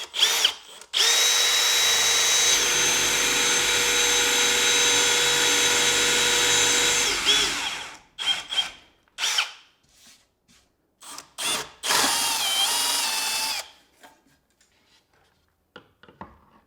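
Power drill boring stepped holes into a 5/8-inch-thick wooden drawer box during a home renovation, with a long loud continuous whir for several seconds, then shorter bursts of drilling and spinning down in close, bright detail.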